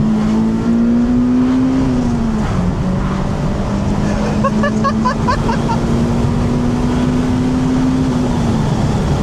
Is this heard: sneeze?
no